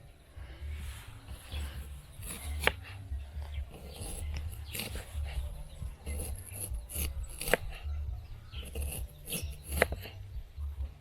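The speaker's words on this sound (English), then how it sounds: "So I have to cut the red onions slices like this one here" A knife slicing red onions outdoors in an African village kitchen, with repeated short cutting strokes over steady low background rumble, close and moderately loud.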